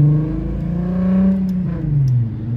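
A straight-piped VW Jetta VR6 revs up close by, its raspy engine note rising and falling over a couple of seconds with faint clicks behind it.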